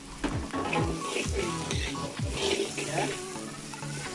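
Chopped spring onions hitting hot oil in a pan for a fish and potato curry, with a burst of sizzling and stirring scrapes, close and fairly loud, a low voice faintly underneath.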